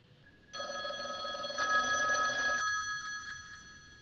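A phone rings in a simulated 3D environment, a steady electronic telephone ring starting suddenly, getting louder, then softening to a fainter ring as it continues.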